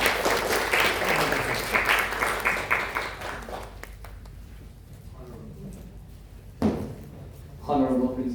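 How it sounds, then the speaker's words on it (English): Applause from a conference audience at a youth STEM sharing session, a few seconds of clapping that fades out, followed by a speaker's voice over a quiet room. "Let's give him a round of applause."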